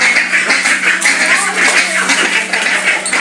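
A flock of pet ducks quacks loudly and continuously at close range, a dense overlapping chorus of raspy calls with a faint steady hum underneath.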